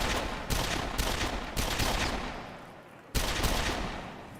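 Video game gunfire from a first-person shooter demo shown at a 2009 PlayStation E3 press conference: loud repeated bursts of rapid shots in several volleys, dense and close, with no talking.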